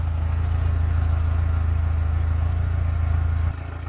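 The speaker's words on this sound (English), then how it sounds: "You can hear the exhaust." Exhaust of a 1975 Porsche 914 with a 1.8 engine, idling with a close, steady low throbbing pulse that drops a little in level near the end, no voices over it.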